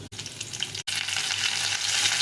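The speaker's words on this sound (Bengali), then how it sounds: "লঙ্কা আর জিরে ফোড়ন দিয়ে আলুটা ভেজে নেব।" Potatoes frying in hot oil with chili paste and cumin give a loud, steady crackling sizzle that cuts out briefly twice before continuing strongly.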